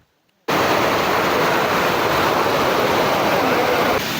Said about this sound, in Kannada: ವನ್ಯಧಾಮದಲ್ಲಿರೋ ಇರ್ಪು ಜಲಪಾತದಲ್ಲಿದ್ದೇವೆ